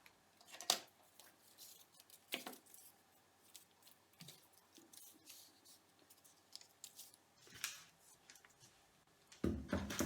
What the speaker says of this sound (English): You need scissors to cut your paper and your paper tape.